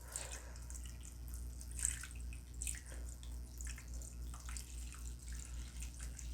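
Water is poured into the tray of a Hamama microgreen kit, a soft, steady trickle with faint splashing, heard up close and quiet, with no talking.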